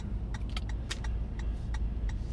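Light rattling and clinking from a floor jack loose in the back of a moving car, intermittent metallic ticks over a continuous low road and engine rumble.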